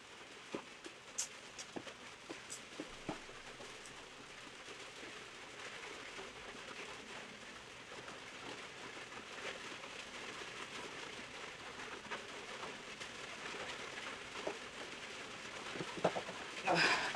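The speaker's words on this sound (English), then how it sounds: "Yeah, it's raining." Rain falls steadily as a soft, constant hiss with scattered faint ticks of drops on a surface, heard from indoors at low volume and growing slightly louder toward the end.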